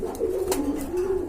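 An Indian Bombay running pair of pigeons coos close by, one low, warbling coo rolling steadily through the short moment with faint background noise.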